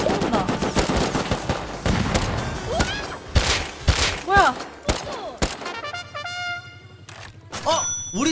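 Gunfire in the survival video game Rust, with sharp single shots and rapid bursts cracking in irregular clusters, some loud and close, others distant, while players talk excitedly between the shots.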